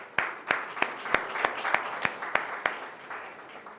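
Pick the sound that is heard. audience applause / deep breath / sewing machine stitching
audience applause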